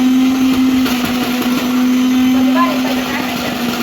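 A kitchen mixer grinder whirs continuously, steady and loud, as it grinds neem leaves with water.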